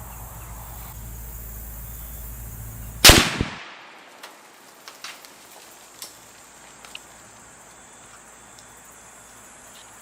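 A single sharp T/C Compass rifle shot fired at a target outdoors, a loud crack near three seconds that decays into a brief echo, followed by a few faint distant pops and low background hiss.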